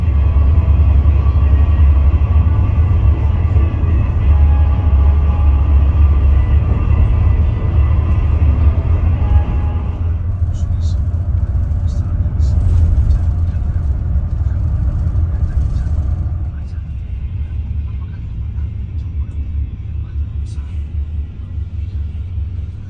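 Steady low rumble from inside a Sinar Jaya Super Executive bus cruising a toll road on a Palembang–Yogyakarta trip, continuous road and engine drone with faint cabin sounds, easing slightly quieter near the end.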